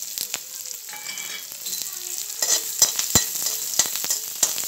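Onions hit hot oil in a kadhai and fry with a bright, steady sizzle, broken by sharp crackles and pops and the scrape of stirring, all close and with no speech.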